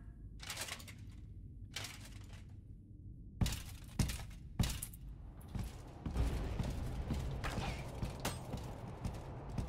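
Shotgun blasts in the horror game Nightmare of Decay, about six loud, sharp reports spaced a second or so apart, followed by a busier clatter of action and impacts.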